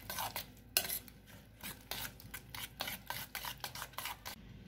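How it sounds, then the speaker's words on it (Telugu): Spoon or fork stirring and scraping a raw egg and onion omelette mixture in a bowl, a close run of quick, rhythmic clinks and rasping scrapes with no talk. "మంచిగా మిక్స్ చేసుకోవాలండి కలిసేలాగా"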